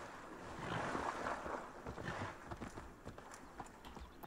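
A horse in Assassin's Creed Valhalla swims across a river while ridden, splashing water with rhythmic paddling strokes and a soft rushing wash, moderately faint with no talking.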